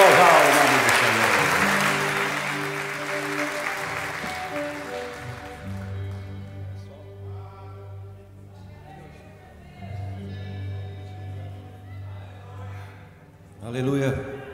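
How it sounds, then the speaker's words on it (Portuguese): Church congregation applauding, a broad clapping wash strongest at the start and fading under sustained music and singing, with a brief burst near the end. "Aplaudo esse Senhor Jesus."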